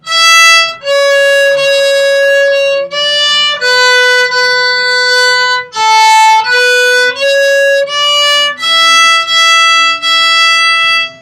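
A bowed string instrument plays a slow line of sustained notes, one after another with brief gaps, loud and close with no talking.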